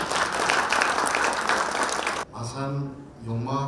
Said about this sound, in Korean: 큰 박수 감사해 주십시오